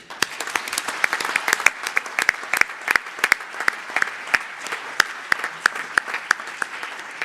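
A conference audience at a nuclear energy forum's main stage applauds, with crisp individual claps scattered over a busy, even wash of many hands, lively and unbroken.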